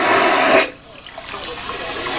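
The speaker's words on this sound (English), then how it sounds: "Oh, we have to listen to the toilet." A toilet flushes close by with a loud, rushing gush that cuts off abruptly. Quieter trickling and refilling water follow.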